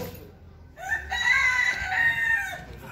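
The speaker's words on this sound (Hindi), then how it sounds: "और यहाँ पे मुर्गे भी काफ़ी हैं जो छोड़े जाते हैं" A rooster crows once at Sri Dev Thakur Baba temple in Gotegaon, Madhya Pradesh, where many roosters are set loose, a clear, fairly close call lasting about two seconds over faint background noise.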